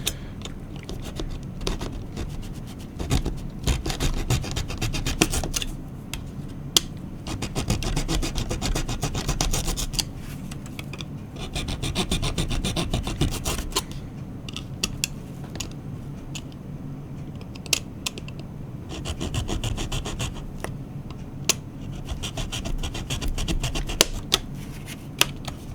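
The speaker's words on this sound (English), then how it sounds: "since I'm sawing things, I'll just go ahead and saw this." Hand sawing through parts of a plastic Star Trek model kit, a steady rasping back-and-forth stroke that continues for the whole stretch at moderate, close volume with no talk.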